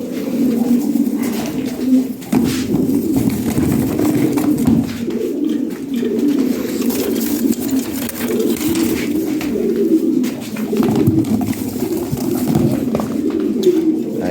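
A pair of red Lahori pigeons coo steadily and close by in a loft, their low, continuous calls filling the space with a faint background hiss.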